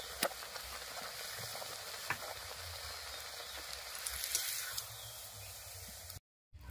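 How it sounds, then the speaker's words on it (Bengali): Sweet potato luchi deep frying in hot oil, a soft continuous sizzle with light bubbling crackles and a couple of faint clinks, quiet and steady, no voices, ending in a brief cut to silence. "এইভাবে সবগুলো লুচি ভেজে নেব"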